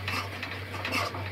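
Spice powders, turmeric, cumin and Kashmiri red chilli, stirred with a spoon in a pan over a low sizzle, a continuous soft scraping and rustle close by without pauses.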